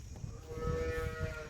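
A young female buffalo calf gives a single drawn-out, low moo close by, steady and fairly quiet, with no talk over it.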